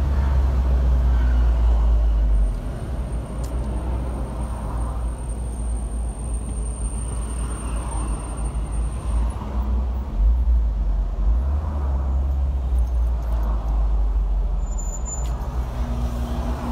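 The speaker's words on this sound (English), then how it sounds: "My car has no roof. It's called the Fun Car." An open-top, roofless car drives through Barcelona city traffic, giving a continuous loud rumble of engine and road noise with wind buffeting, while passing vehicles and brief brake hisses are heard.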